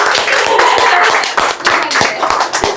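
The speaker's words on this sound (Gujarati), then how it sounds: "તાળીઓ પાડજો બધા માટે" A small group of people claps close by at a dental clinic's Women's Day celebration, honouring the female staff with quick, uneven, sharp hand claps.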